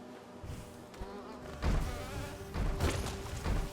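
Buzzing bee-like insect enemies in the video game Hollow Knight drone steadily throughout, swelling louder in a few bursts against a background of game sounds, with no speech.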